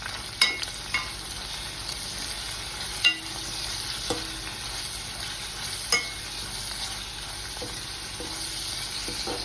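Curry leaves and green chillies frying in oil in a pan, a continuous close sizzle punctuated by a few sharp utensil knocks and scrapes, no talking.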